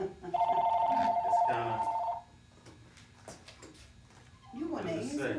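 Telephone ringing in a store, a close electronic ring repeating for about two seconds, followed by people talking nearby.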